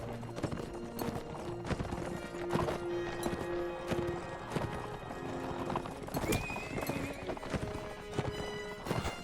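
Horses gallop in the medieval combat game Mount and Blade: Warband, a dense run of hoofbeats with occasional whinnies and clashing battle noise mixed in, steady and fairly loud throughout.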